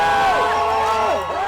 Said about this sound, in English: Cheers and applause echo through the fan district as this divisive symbol comes down.